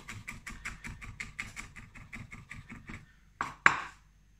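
Rapid, even knife chops on a cutting board, about a dozen quick strokes, then a pause and two sharper knocks.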